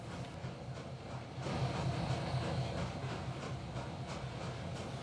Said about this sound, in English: in the background, I'm moving this locomotive into position so that we can potentially take those two boxcars back with us to Mullen